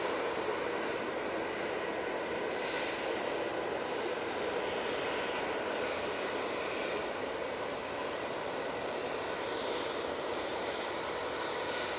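An EasyJet Airbus A319 jet departs Manchester Airport for Belfast, its engines a steady, loud broadband roar that holds without a break throughout.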